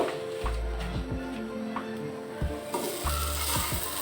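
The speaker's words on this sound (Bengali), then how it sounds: "আমি হোয়াইট সসের জন্য বাটারটা দিয়ে দিলাম" Butter with chopped garlic and ginger sizzles in a frying pan as the base for a pasta white sauce, a steady close hiss broken by scraping stirs and a few utensil knocks on the pan.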